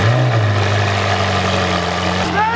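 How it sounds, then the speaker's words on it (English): Ferrari 488 GTB engine running right after startup: a loud, close, steady rumbling drone with strong low harmonics and a slight pitch shift near the end. A voice is faintly present. "That's a full startup on a 488 GTB."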